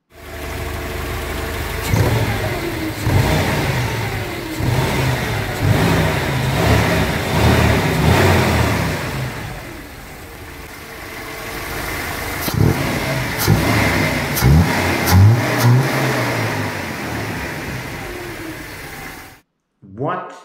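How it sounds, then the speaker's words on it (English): A Mercedes with K-Jetronic fuel injection and a lean mixture is revved repeatedly, its engine rising and falling between surges and idle, close and loud, with someone talking at times. "let me rev the car up for you"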